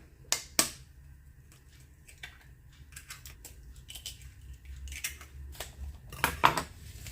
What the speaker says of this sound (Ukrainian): зараз вбиваємо яйця